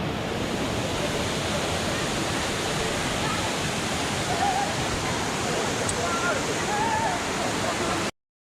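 Waterfall at Ai Sue Do waterfall in Thailand, a steady, dense rush of falling water that fills the scene at an even loudness throughout, with faint voices audible in the background.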